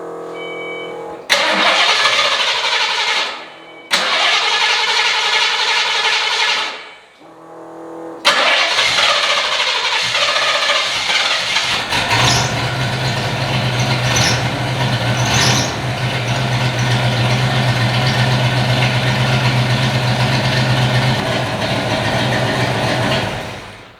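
A Ford Mustang Foxbody V8 cranks and fires in short bursts, stalls, then catches and settles into a steady, loud rumbling idle that holds to the end.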